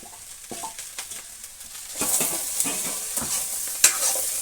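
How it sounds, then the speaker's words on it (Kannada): Small chopped bottle gourd pieces fry in a pan with turmeric for a sambar, giving a steady sizzle broken by scraping stirs that grow louder and busier after the first couple of seconds. "ಸೋರೆಕಾಯಿ ಕೂಡ ಚೆನ್ನಾಗಿ ಫ್ರೈ ಆಗಬೇಕು"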